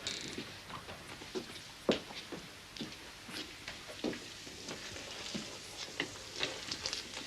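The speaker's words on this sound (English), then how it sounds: "just some frying steak and mushrooms" Steak and mushrooms fry in a pan, a soft continuous sizzle with occasional clinks and stirring scrapes, close and fairly quiet, with no talk.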